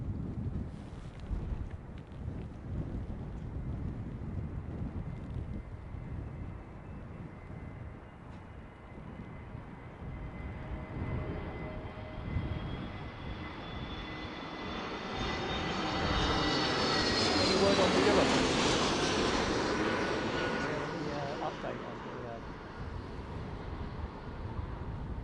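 Jet aircraft land at London's Heathrow Airport in windy conditions, with wind buffeting the microphone throughout. An engine roar swells and peaks as a plane passes close by, then fades back into the gusty rumble.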